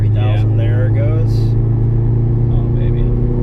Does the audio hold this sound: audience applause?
no